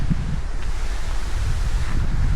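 Strong wind buffeting the microphone at a riverside campground in Wallabadah, a continuous low rumbling roar with gusty swells throughout, loud and close.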